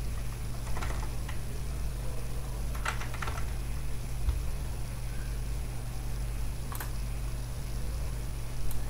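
Keys on a computer keyboard clack in a few short, scattered bursts as a command is typed, faint against a steady low electrical hum.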